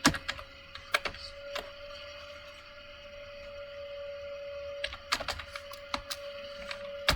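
Someone typing a business card design search into Canva on a computer keyboard: a few quick keystroke clusters at the start and again near the end, close and crisp, with a steady tone and quiet gap between.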